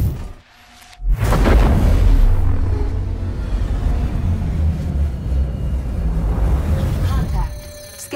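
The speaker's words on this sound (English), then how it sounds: "Quantum travel engaged." A ship's quantum drive engages in Star Citizen: after a brief quiet moment, a loud rushing whoosh surges in and holds as a heavy, sustained roar and rumble, easing off near the end.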